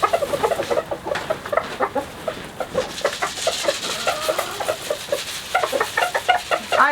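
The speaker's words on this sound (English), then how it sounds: "Let's put something out for the chickens to forage." A flock of chickens in a winter chicken run clucks steadily and close by, a constant chatter of short overlapping calls with no talking.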